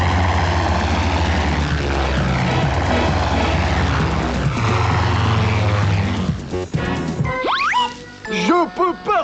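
A blue propeller plane with a red stripe drones steadily and low in a cartoon aerial scene, its engine holding a constant hum for several seconds before voices break in over the fading noise.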